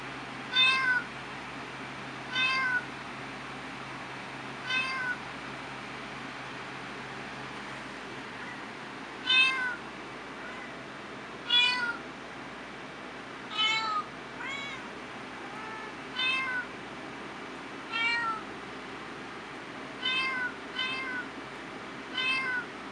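Repeated short cat meows from a piano cats phone app, about a dozen, sound at uneven intervals over a faint steady hiss, each meow thin and slightly electronic in tone.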